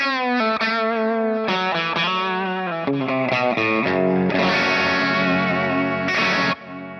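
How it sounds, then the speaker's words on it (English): Electric guitar with a bridge humbucker, played through a Dr Z amp profile on a Kemper, driven into crunchy breakup like a cranked amp: a run of separate sustained notes, then fuller ringing chords, loud and alone with a chorus-like shimmer. "That sounds like an amp turned up."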